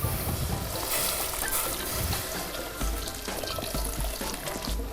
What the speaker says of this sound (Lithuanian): Pilame dar apie litrą vandens.